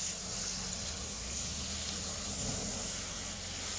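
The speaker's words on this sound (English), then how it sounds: "we're going to carefully pour water down the side of the bucket in a very controlled way" Water poured carefully down the side of a burning biochar bucket, producing a continuous loud hiss of steam, close and steady with slight surges.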